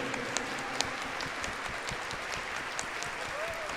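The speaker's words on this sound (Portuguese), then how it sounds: "Então dê uma salva de palmas, porque o mistério é grande." A church congregation claps during Mass, a sustained ripple of applause with a few sharper individual claps standing out, moderately loud and steady throughout.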